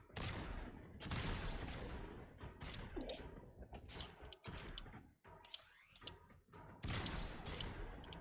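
Gunfire bursts in the video game Warframe, loud rapid shots and fusillades that repeat in clusters over the clip, mixed with mechanical clanks and creaks of combat.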